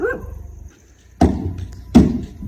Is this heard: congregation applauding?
no